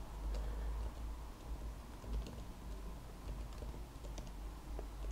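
Someone types quietly on a computer keyboard, producing soft, irregular key clicks with short pauses over a low background rumble.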